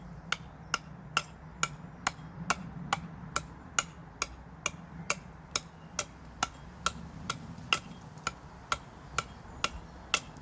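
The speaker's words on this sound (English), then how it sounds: "you could hold it and use a little mallet, so you get your axe stuck in, then you get a mallet somehow" A small mallet taps an axe head wedged in wood, about twenty sharp, evenly spaced knocks ringing out alone at a slow, steady pace.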